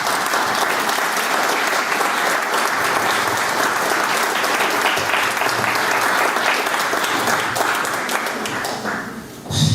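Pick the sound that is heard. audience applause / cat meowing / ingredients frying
audience applause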